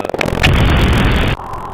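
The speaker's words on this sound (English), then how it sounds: "Really like the explosion." An animated explosion effect: a sudden loud broadband blast that roars steadily for about a second, then cuts off abruptly into a lower rumbling tail, with no talking.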